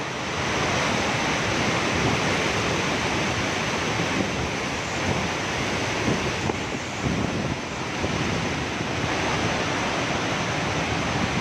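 Strong typhoon wind from Super Typhoon Rolly in the Philippines roars continuously and loudly, a dense rushing wash buffeting the microphone with slight surges and no voices.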